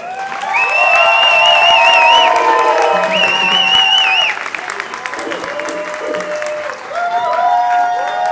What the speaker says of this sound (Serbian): Ja vas molim sad za ogroman aplauz za njih dvoje